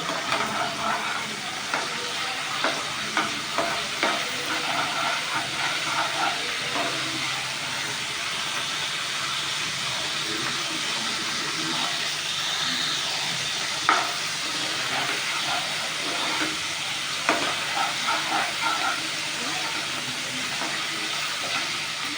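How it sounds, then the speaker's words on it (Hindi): Spices frying and being stirred in a pan for Sindhi methi aloo, a steady hiss and sizzle with intermittent scraping clicks of the spoon, close and continuous with no talking. "अभी तीनों को अच्छी तरह से भूनेंगे"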